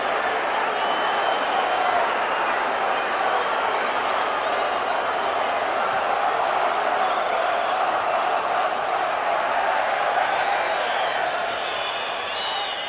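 A large stadium crowd roars continuously throughout a 1987 rugby union test match between the Australia Wallabies and the Argentina Los Pumas, a loud, sustained, distant wall of voices with cheering swells.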